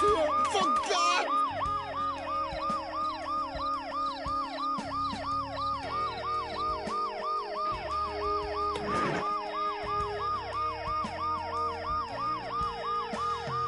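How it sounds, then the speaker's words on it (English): An ambulance siren in the video game Dead Synchronicity wails in a steady, loud, fast up-and-down cycle throughout, with a brief sharp clatter near the end and no speech. "The noise the ambulance makes will cover the sound of the glass breaking."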